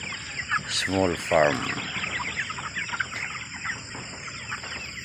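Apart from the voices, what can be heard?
chickens clucking on a small farm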